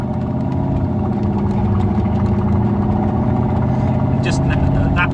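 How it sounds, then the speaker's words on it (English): A straight-piped supercharged V8 Jaguar Mk2 accelerating, its engine a loud, steady, close rumble with a rising whine, and a voice briefly heard near the end. "just hear the supercharger whine as well"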